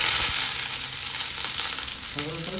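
Chopped onion sizzling in a hot pan for paneer chilli: a dense, steady frying hiss up close, with a few scraping stirs near the end and no talk.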